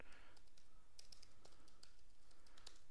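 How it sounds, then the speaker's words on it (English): Quiet typing on a computer keyboard, a steady run of light key clicks at close range over a soft background hiss, with no talking. "I'm not going to keep typing all these zeros out"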